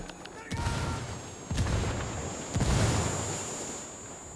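Grenade blasts in the video game Ghost Recon: three heavy, low booms about a second apart, each with a rumbling tail over steady background noise.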